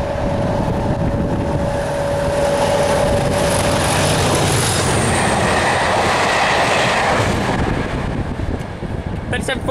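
Diesel locomotive 37403 Isle of Mull passes at Hest Bank hauling a train with a DBSO driving trailer, a loud close roar of engine and rolling wheels with rail clatter and a brief squeal, a voice briefly heard under it.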